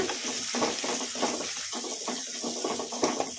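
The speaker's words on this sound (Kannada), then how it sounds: "ಉಳ್ಳಾಗಡ್ಡಿ ಲೈಟ್ ಗೋಲ್ಡನ್ ಬ್ರೌನ್ ಕಲರ್ ಬರೋವರೆಗೂ ಫ್ರೈ ಮಾಡ್ಕೊಂಡ್ಬಿಡೋಣ" Sliced onions frying with spices in a pan over medium flame for masala rice, a close steady sizzle with rhythmic stirring scrapes throughout.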